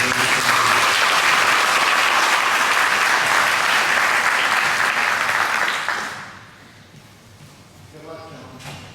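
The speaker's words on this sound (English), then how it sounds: "I'd like you to give a round of applause." Audience applause at a sheriff election candidates' forum, a loud, dense and steady roar of many clapping hands lasting about six seconds before dying away, after which a voice begins to speak.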